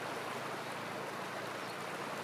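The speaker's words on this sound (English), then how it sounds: "This is our Sonyiro, River Sonyiro." Steady broadband rush of the Sonyiro River flowing past a spot lined with milkweed bushes, a continuous close wash of water with no pauses, heard alone with no talking.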